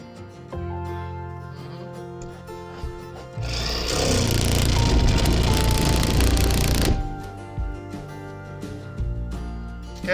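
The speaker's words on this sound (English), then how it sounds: "Okay, I'm drilling a circle." A power drill cuts a circular hole during a window installation, starting with a short whir, then grinding loudly and steadily for about four seconds close by before stopping, with workshop background noise around it.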